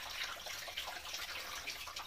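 Running water rinsing a sparkling glitter face mask off skin, heard as a soft, continuous splashing and trickle close by, with no voices.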